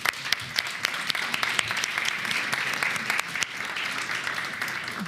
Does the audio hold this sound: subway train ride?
no